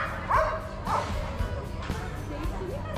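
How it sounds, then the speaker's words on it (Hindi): A dog sitting at the entrance of a canteen on a college campus gives two short yelping barks close by, then falls quiet over a murmur of background voices. "ये कुत्ता बैठा है हमारे इस्तकबाल के लिए"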